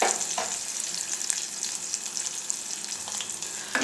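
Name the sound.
tempering frying in pan for Rayalaseema ulava charu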